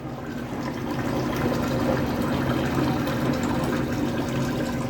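Samsung washing machine filling with water for a large load of heavy bedding padding: a steady, loud rushing and gushing of water with a pump-like hum, continuous and close throughout.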